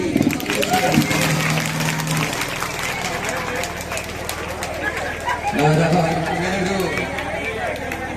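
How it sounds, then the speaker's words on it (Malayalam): An audience at a saptaham event at Thathamkode Narasimha Moorthy temple claps in a continuous patter, while a voice talks over it. "രുക്മിണി കാന്ത കടക്കൊരു കയ്യടി"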